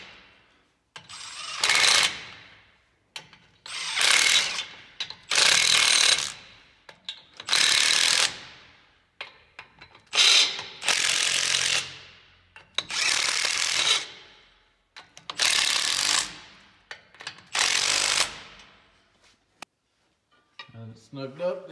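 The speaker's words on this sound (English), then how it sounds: "I'm just gonna tighten these down with the impact real quick, just to get it snugged up." An impact wrench tightens nuts onto axle studs during assembly of a Ford Dana 50 TTB front axle, firing in about eight loud, rattling bursts of one to two seconds each, separated by short pauses, close up.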